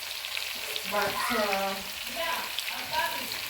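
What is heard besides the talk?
pork frying with onions and tomatoes in pan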